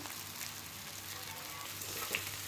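Pieces of dhokla are stirred slowly in hot tempering oil in a pan over a low flame, a steady close sizzle with soft scraping underneath, no voices.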